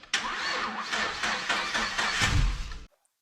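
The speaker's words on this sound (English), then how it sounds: "That sounds like the engine having a hard time to start." A car engine cranks slowly and laboriously on a weak, low battery, several sluggish rhythmic turns close up, then cutting off abruptly without catching.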